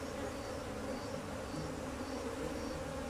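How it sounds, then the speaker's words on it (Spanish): A dense, steady hum of honey bees swarming around a hive with brood comb, recently transferred from a very defensive colony, drones on unbroken and close for the whole stretch, with no talk. "Todas las abejas que tiene. Es impresionante."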